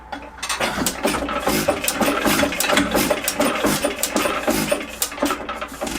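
A 1 hp IHC Mogul antique gas engine that is starting poorly, being cranked by hand: a fast, steady mechanical clatter and rhythmic ticking, close and loud, continuous throughout with no talk.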